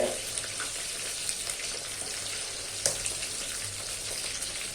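Food fries in hot oil, a steady crackling sizzle with a few sharper pops over a low background hum.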